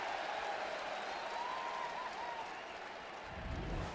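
A baseball stadium crowd at a Yankees–Blue Jays game in Toronto, broad sustained applause and crowd noise washing evenly across the clip, with a low rumble entering near the end.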